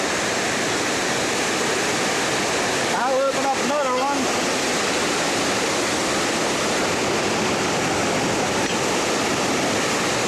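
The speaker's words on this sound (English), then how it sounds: "You might be able to see the water rushing in down there now." Water rushes into a canal lock through an opened wicket in a loud, steady roar throughout, with someone speaking briefly over it near the start.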